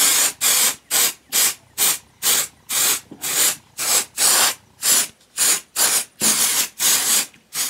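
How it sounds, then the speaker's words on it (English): Release agent is sprayed onto a silicone mold in a quick, even rhythm: about fifteen short, loud hissing bursts from close by, each separated by a brief gap. "Once I have it all cleaned up, I use a release agent."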